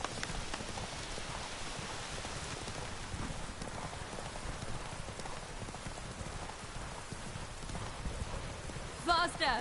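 Horse hooves clip-clop at a steady galloping pace in The Witcher 3 video game, continuous and fairly close under rain-like noise and game voices, with a brief louder burst near the end.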